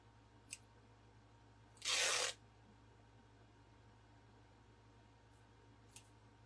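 A single short burst of material being ripped into a narrow strip, a little over half an inch wide, during painting work on a retro radio kit. It lasts about half a second and sounds close and fairly loud against a quiet room.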